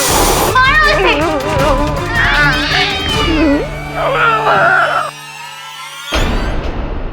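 A cat meows and yowls in a tense courtroom scene, its cries mixed in with loud, overlapping voices and ending before a short stretch of quieter room tone.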